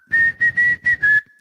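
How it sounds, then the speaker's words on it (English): Someone whistles five short, steady high notes in quick succession, close and clear. "Oh, you mean the whistling?"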